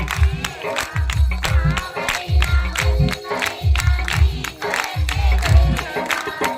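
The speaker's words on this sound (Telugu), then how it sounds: "రెండు చేతులు పైకెత్తండి, చప్పట్లు గట్టిగా" A crowd at a Christian worship service claps hard in a steady rhythm over loud music with a pounding beat, the clapping continuing throughout.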